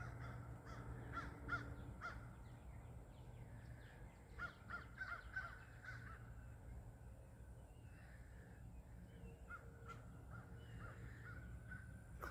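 Crows caw repeatedly among trees outdoors, clusters of harsh calls at moderate distance over a steady low background hum and breeze.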